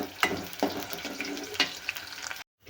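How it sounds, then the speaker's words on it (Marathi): Green chillies frying in a small pot give a light sizzle with a few sharp spatters and stirring clicks, close and fairly quiet, ending abruptly in silence. "आता इथे मुरकूल फ्राय केलेच मी आणि मस्त अशा हिरव्या मिरच्या पण फ्राय करत आहे."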